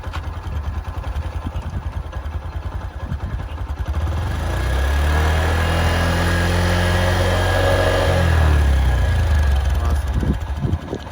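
A Bajaj CT110 motorcycle engine starts and settles into a steady, loud idle, its running note growing fuller partway through, recorded close with no talk.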